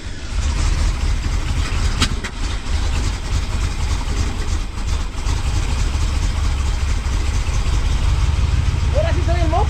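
Chevy 350 small-block V8 idling in a square-body C10 truck after an intake manifold and carburetor install, a loud, steady low rumble throughout, with people talking faintly in the background.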